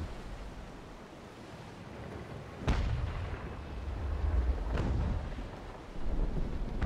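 Naval Action sea battle: deep booming ship cannon shots, two or three heavy blasts, over a constant wash of ocean waves, fairly distant and rumbling.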